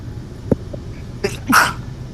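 A single person sneezes nearby, a sharp burst followed by a short exhale, with a smaller throat noise before it.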